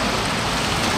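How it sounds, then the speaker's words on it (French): Steady rain pours down on a Paris street near a McLaren Speedtail, a dense even hiss of drops filling the whole second with no voices. "par contre il pleut, ça ne s'arrête pas"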